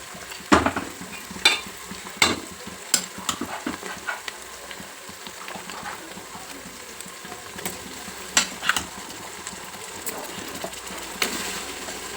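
Mutton pieces fry and are stirred in a pan for a home-style mutton curry, with a steady sizzle broken by sharp, irregular scrapes and clinks of the spoon against the pan, close and fairly loud, with no talking.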